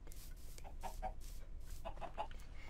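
A Minecraft chicken clucking in a survival game: several short, soft clucks in two small clusters, faint and close over quiet background noise.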